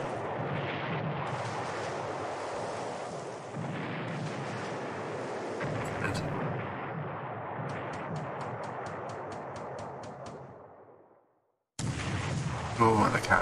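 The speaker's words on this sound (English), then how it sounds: "It's just bombs. No, it's definitely torpedoes." Bombs or torpedoes detonate in the War in the Pacific naval wargame as a continuous rumbling barrage of explosions, broken by brief crackling bursts, a sudden dropout, then a renewed loud blast at the end.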